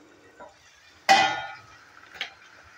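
A metal utensil clangs sharply against a pan while chingri shutki charchari is stirred after the lid comes off, one loud ringing strike fading out, then a lighter scrape and tap, in an otherwise quiet kitchen.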